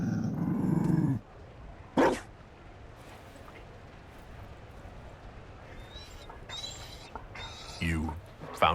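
A Mabari war dog in Dragon Age Inquisition gives a few short, sharp barks and growls in separate bursts over quiet game ambience, with brief scattered effects between them.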